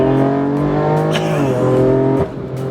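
A 745 HP modified BMW M4 accelerates hard, its engine note loud and close with the turbo rising in pitch through the gears and a brief shift dip before it pulls again.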